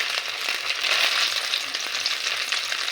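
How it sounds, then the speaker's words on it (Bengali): Chowmein balls frying in hot oil, a dense, even bubbling sizzle that holds steady and close throughout with no talk over it. "আমাদের তেলটা গরম হয়ে গেছে, এবার এই বলগুলো দিয়ে দেবো। এটা লাল করে ভেজে নেব"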